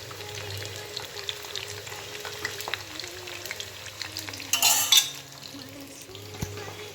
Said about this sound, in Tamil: சில்லி நல்லா பொரியுது